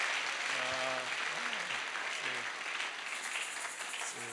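A church congregation applauds in a steady, dense wash of clapping, with a voice singing or speaking over it near the start.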